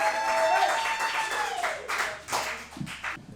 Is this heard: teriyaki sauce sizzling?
no